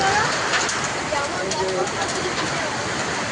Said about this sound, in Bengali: অনেক জোরে পানি তারপর ঝড় হচ্ছে